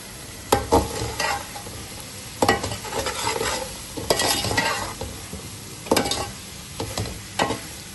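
Potatoes and peas sizzle and fry in a pan for pulao, with repeated sharp scrapes and stirs of a spoon at irregular intervals over a steady close frying hiss.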